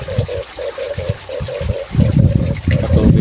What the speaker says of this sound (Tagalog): Patubig ng mga palayan.